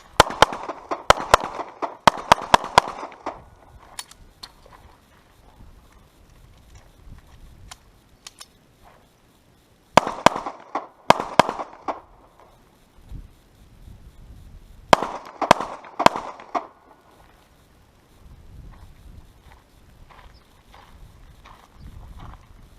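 Shots from a Beretta 1934 handgun in .380 during a self-defense drill, fired in three separate quick clusters of sharp cracks spaced several seconds apart, loud and close, with quieter shuffling between strings.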